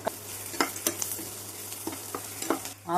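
Small onions, fennel seeds and cashews sauté in a pan for a green chilli chicken kurma masala, with a continuous crackling sizzle, punctuated by a few scraping stir sounds.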